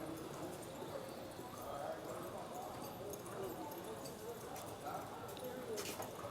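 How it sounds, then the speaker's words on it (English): A cutting horse moves around a pen while working a cow, its hooves thudding softly and irregularly under low background noise and faint talk. "Well, this is a nice little horse."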